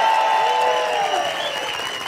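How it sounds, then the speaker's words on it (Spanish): Studio audience applause on a Mexican late-night TV show, a dense continuous wash of clapping and crowd noise with a faint tonal hum beneath, holding steady for a couple of seconds. "Vamos a escuchar el aplauso para Aída Pierce."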